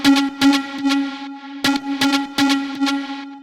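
Layered Serum synth lead for a house remix, processed with widening, compression, OTT, saturation and reverb, plays a bright rhythmic hook of short stabbing notes over a steady sustained tone, loud and upfront.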